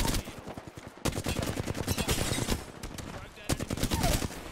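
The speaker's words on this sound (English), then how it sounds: "I'm shooting this guy." Rapid bursts of automatic gunfire from Fuse in the game Apex Legends, loud and close, with dense repeated shots in several volleys and brief pauses, mixed with game effects.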